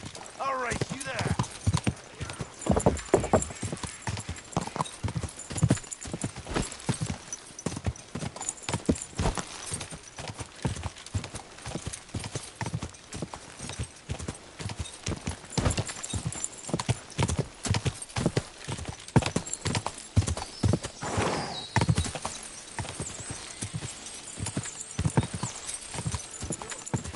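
A horse gallops in Kingdom Come: Deliverance II, steady rapid hoofbeats pounding throughout with an occasional whinny, under ongoing conversation between characters.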